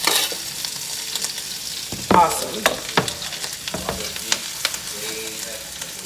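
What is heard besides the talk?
onions sizzling in a hot pan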